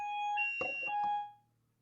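Fire alarm beeping in a home, a steady high electronic tone with harmonics sounding alone for about a second, briefly interrupted by a few dull knocks before it cuts off.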